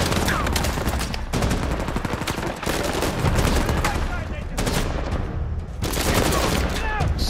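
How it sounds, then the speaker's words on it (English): Rapid bursts of automatic gunfire and scattered shots crackle continuously in an Uncharted 4 firefight in Libertalia, loud and dense throughout, with incoming fire from behind. "someone is shooting from behind"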